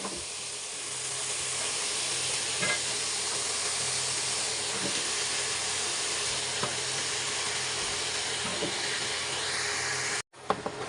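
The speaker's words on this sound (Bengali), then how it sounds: "মশলাটা কষানো হয়ে গেছে, এখন আমি লাউগুলো দিয়ে দিব" Bottle gourd tipped into a pan of fried spice paste gives a loud, steady sizzle with a constant hiss and a few faint stirring clicks, ending abruptly near the close.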